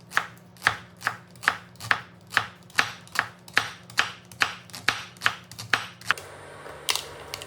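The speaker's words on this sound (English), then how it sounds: "Thinly slice the leek." A knife thinly slicing a medium leek on a board, about fourteen crisp, evenly spaced chops at a steady quick rhythm, close and clear, ending in a brief softer rustle.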